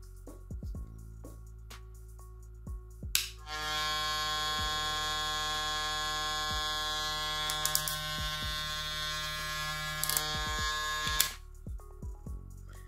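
A Wmark NG 9002 hair clipper is switched on with a click and runs for about eight seconds with a steady, loud electric buzz and hum, then clicks off, with handling clicks before and after.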